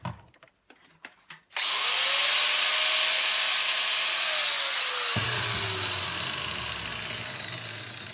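Power tool scraping plating off a brass object, a sustained close grinding whir that starts abruptly after a few sharp knocks, holds steady, then drops in tone and fades slightly.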